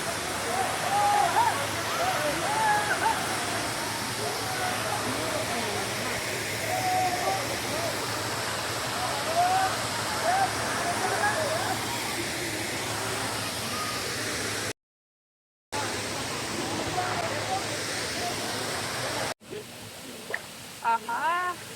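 Dudhsagar waterfall gives off a constant broad rushing roar, steady and fairly distant, with a short break partway through and faint voices in the background.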